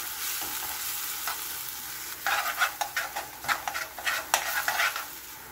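Sautéed onion and garlic sizzle in a pan, first as a quiet steady fry, then with a burst of rhythmic spatula stirring and scraping strokes over the crackling oil; no voices.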